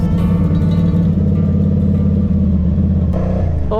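Motorcycle riding a mountain road near Atok, Benguet in the Philippines, its engine a steady, loud, close drone throughout with a slight rise near the end.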